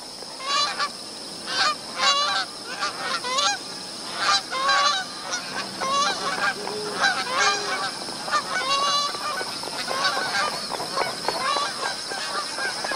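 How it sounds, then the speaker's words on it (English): Magpie geese gather at a billabong, many honking calls overlapping in an irregular chorus, fairly close and loud over a steady high insect-like drone. "The magpie geese have abandoned the scorched grass of the floodplain and begin to gather back at the"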